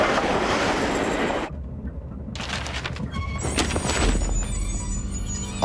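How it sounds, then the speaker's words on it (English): A train pulls into a station with a loud rolling rumble, a brief lull, then shrill, sustained wheel and brake squeals as it slows, heard up close with no talking. "This train doesn't usually stop here."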